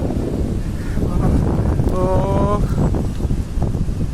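Stormy February wind on the seafront at Feodosia buffeting the microphone with continuous loud low rumble and gusts, while a person briefly exclaims.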